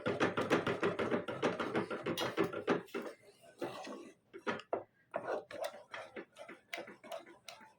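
Ragi sangati, a thick finger millet mash, is stirred vigorously in a pot. It makes a fast, rhythmic run of close clacking and scraping strokes, then slower, irregular knocks.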